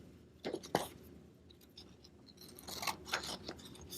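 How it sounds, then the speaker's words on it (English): Scissors snip through white construction paper at a kids' shamrock craft: a few close, crisp cutting crunches in quick bursts, with faint paper rustling between them. "You just hold the paper like this and you cut this way."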